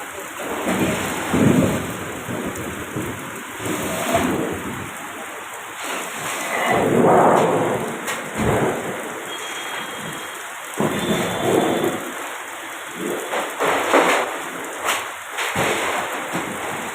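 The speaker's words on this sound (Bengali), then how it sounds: "এদিকে তো বৃষ্টি অঝরে পড়ছে" Heavy, continuous rain pours down during a thunderstorm, with loud rolling thunder claps and cracks breaking through the steady downpour at intervals.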